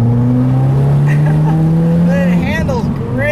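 A 2017 Subaru WRX Premium engine drones steadily and then rises in a quick rev, heard from inside the car while someone talks over it.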